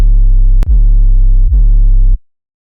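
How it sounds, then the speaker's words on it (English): A clean, pure sine-wave sub bass tone for distorted riddim, sustained in three long notes with brief gaps, deep and steady with no other sounds. "So the clean sub sounds like this."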